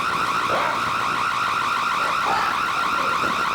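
A loud house alarm system sounds continuously nearby, a piercing steady warble with no pauses, and traces of voices faintly beneath it.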